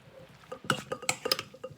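Mayonnaise salad mixture being stirred in a bowl, with a handful of close, light clinks and scrapes of a utensil against the bowl in an irregular rhythm, no voices.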